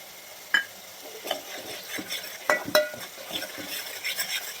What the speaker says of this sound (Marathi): हे बघा कांदा आपण तेल सुटेपर्यंत भाजून घेतलाय